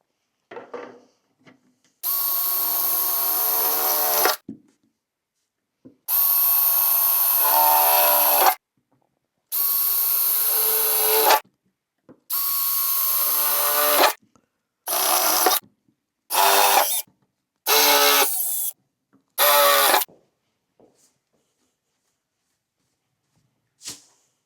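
Power drill boring holes through a metal blackout light bracket for a Willys MB jeep, heard as about nine loud bursts of steady whirring, long runs at first and then shorter quick ones, with short silent gaps between them.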